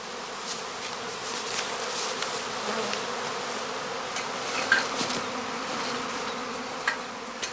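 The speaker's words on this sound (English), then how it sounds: "2 or 3 times he shakes swarms into the same catching skep." A honeybee swarm being shaken into a catching skep fills the air with a dense, steady buzzing from many bees, close and continuous, with faint knocks and bumps from the skep now and then.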